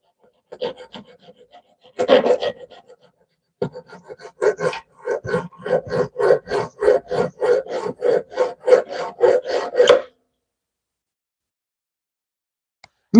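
A blade being sharpened with a hand file, a close, rhythmic series of rasping strokes, sporadic at first and then a steady run of about fifteen even passes before stopping abruptly.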